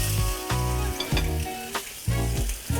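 Albacore tuna sears in a smoking hot oiled pan, a loud continuous sizzle broken by several sharp crackling bursts and pan clatters, with no voices.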